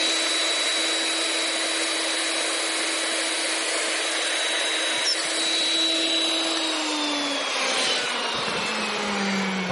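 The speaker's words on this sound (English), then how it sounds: "Now what I did was drill that hole in it." A power drill whines continuously at close range, its steady motor tone shifting in pitch as it bores through material.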